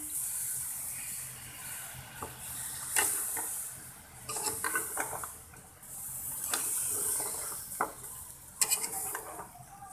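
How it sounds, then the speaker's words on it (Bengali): Spice masala sizzling in a pan with water added, stirred with a spoon that scrapes and clinks against the pan in bursts over a steady hiss. "কষানোর জন্য অল্প করে পানি দিলাম"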